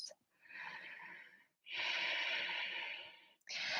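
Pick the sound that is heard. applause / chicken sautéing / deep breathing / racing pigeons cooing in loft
deep breathing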